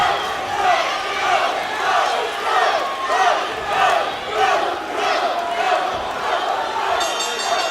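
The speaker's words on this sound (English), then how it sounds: "You can hear who the crowd is here for." Crowd at a cage fight chanting and cheering in rhythmic waves, a loud roomful of voices rising and falling in a regular pulse, with a commentator's voice talking over it.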